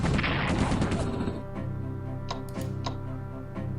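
Tank attack in a WWII strategy video game, opening with a dense burst of gunfire and explosion effects that drops to a lower rumble, followed by a few sharp metallic impacts.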